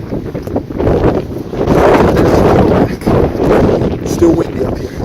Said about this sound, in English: It's still windy up here.